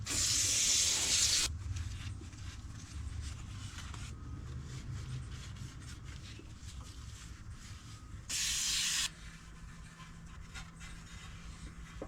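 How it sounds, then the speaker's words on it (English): Brake cleaner solvent sprayed onto a transmission pan from a Mazda CX-5, two loud bursts of hissing aerosol, one long and one short, with quiet scraping and handling between them. "it is important to hit it with alcohol or brake cleaner, some sort of solvent to really clean it off"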